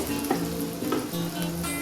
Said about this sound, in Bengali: পেঁয়াজটা হালকা ভাজা ভাজা হয়েছে